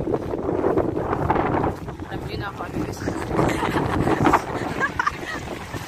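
Cold night wind outdoors near a forest on the way to a school buffets the microphone in rough, uneven gusts, rumbling loudly beneath a person talking.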